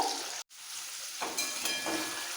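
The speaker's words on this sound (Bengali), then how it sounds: "দুবারে পনিরগুলো ভেজে নেব এই সময় কিন্তু নুন হলো কিচ্ছু দেবো না প্লেন ভেজে নেব" Continuous crackling sizzle of paneer frying plain in hot oil, close up, with a momentary break near the start and occasional stirring sounds.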